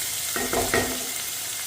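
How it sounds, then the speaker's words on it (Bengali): Bottle gourd peel fries in a pan with a soft continuous sizzle and a brief clatter of stirring near the middle, close by and without voices. "লাউয়ের খোসা ভাজা"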